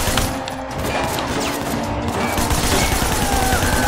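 Gunfire erupts in the video game Sleeping Dogs during a gang attack on a wedding, a loud, steady barrage of shots and impacts layered over game noise for the whole stretch.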